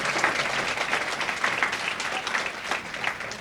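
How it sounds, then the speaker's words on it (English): An audience at an awards luncheon applauds, a dense, even patter of many hands clapping at moderate volume that continues throughout. "And let's have one more round of applause for Jeni Mather, our 2025 award winner."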